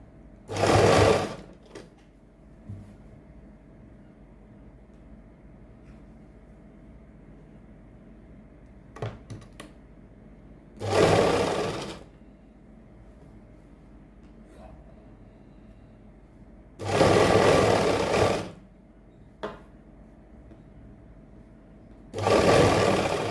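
Sewing machine stitching a kurti, running in four separate loud bursts of one to two seconds each, with quiet pauses and a few faint clicks and handling sounds between them.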